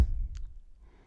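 A single deep, thumping kick drum hit with a short, booming decay, heard alone.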